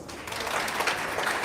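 Live audience at a wellness business meeting clapping steadily throughout, a dense even wash of applause with no pauses.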